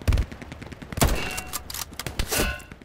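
Gunfire in the World War II shooter Hell Let Loose at Sainte-Marie-du-Mont, a few sharp distant-to-mid-range shots and thuds scattered over a few seconds, with no talk.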